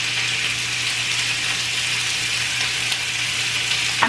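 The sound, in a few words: chicken frying in a pan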